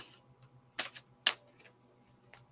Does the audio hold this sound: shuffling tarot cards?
yes